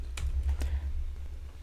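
Typing on a computer keyboard: a couple of quick, soft key clicks over a steady low hum from the computer, with no voice.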